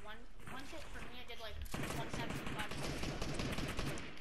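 Pump shotgun firing in a video game, a burst of loud sharp gunfire crackling densely in the second half after a stretch of game noise and a voice, close and harsh.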